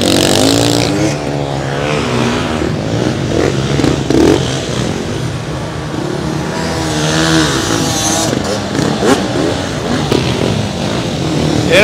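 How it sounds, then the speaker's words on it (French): Racing motorcycles roar past at the GURP TT Grayan road race, a continuous loud engine drone with rising and falling passes, mixed with crowd noise and talk. "Regardez la moto."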